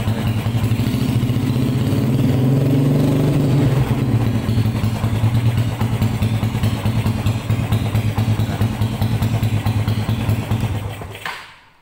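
A Yamaha Byson motorcycle engine runs loud and close, rising briefly in pitch as the throttle is blipped, then settling into a steady idle rumble before cutting off abruptly at the end.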